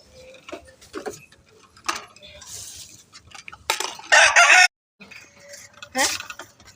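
Chickens and a rooster in a home coop, with bursts of clucking and a loud crowing call standing out near the end, set against quiet background sounds.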